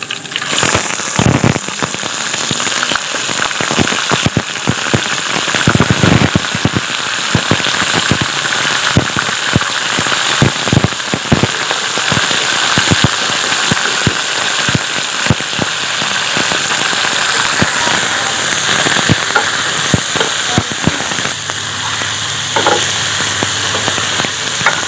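Chicken fries in a karahi with garlic and ginger for a Shinwari karahi, a steady loud sizzle with dense crackling pops and spits that continue unbroken throughout, no voices.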